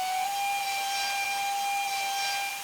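Steam hiss from a J70 tram engine in a train simulator game: a continuous loud, airy hiss with a steady whistle-like tone running throughout.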